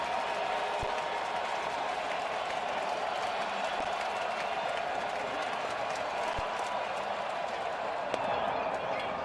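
A baseball stadium crowd at an American League Division Series game in the bottom of the sixth inning sustains a steady roar of cheering and clapping, heard at a distance under a broadcaster's voice.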